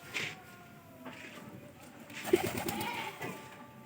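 Pigeons coo softly in a loft, with low throaty calls rising now and then over quiet background noise and a voice nearby.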